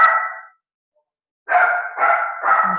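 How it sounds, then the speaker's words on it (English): A dog barks loudly at close range, one bark and then, after a short silence, three quick barks in a row, with no speech over them. "Let me get my dog."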